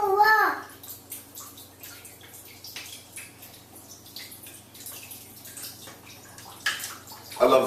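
Coconut water trickling out of a small hole punched in a coconut, a thin steady liquid stream with faint dripping, close and fairly quiet, with a brief louder splash near the end.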